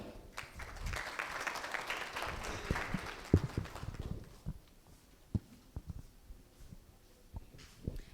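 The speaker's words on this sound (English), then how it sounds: "with a round of applause" A conference audience at the Zimbabwe Real Estate Expo applauds as a panelist is welcomed, with moderately loud clapping that thins into scattered individual claps and a few louder isolated ones.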